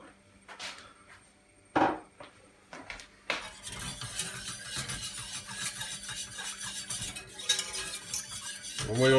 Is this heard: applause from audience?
no